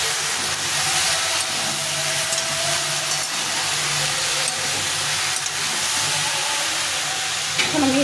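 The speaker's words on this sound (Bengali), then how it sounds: "সবজিটা ভাজা হয়ে গেছে অনেকটাই।" Mixed vegetables with ridge gourd keep frying in a pan, giving off a continuous close, loud hissing sizzle with a few faint clinks of stirring near the end.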